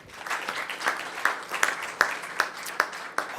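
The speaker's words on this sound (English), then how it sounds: "How about an applause for Eisenhower High School, right?" Applause at a school district board meeting honoring Eisenhower High School state track and field athletes: a small scattered group clapping, with sharp distinct claps at a steady rhythm over a soft background wash.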